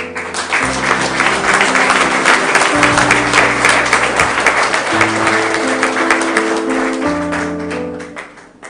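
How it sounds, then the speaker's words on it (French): At a medal ceremony in Salon, an audience applauds a former resistance fighter, a sustained burst of clapping over sustained music tones that fades out at the end. "Je vous demande de l'applaudir."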